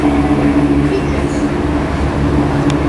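A ScotRail train forming a service to Alloa, heard at Stirling station, gives off a loud, steady low rumble and engine drone close by, with a faint brief squeal near the end.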